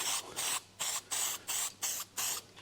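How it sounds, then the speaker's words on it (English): Rust converter sprayed from a can onto the bonnet of an FJ45 Land Cruiser in about eight short, evenly spaced hissing bursts, close and crisp with brief silences between. "I've got myself some rust converter here, which I'm going to spray down."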